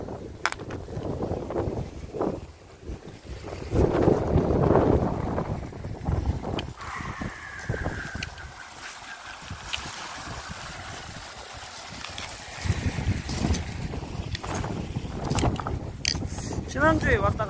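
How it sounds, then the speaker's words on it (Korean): Strong gusting wind buffets the microphone along a riverside in Yeongcheon, a broad roaring rush that swells and eases over the clip, with a faint tone and some handling noise in between. "오늘은 바람이 상당히 세요"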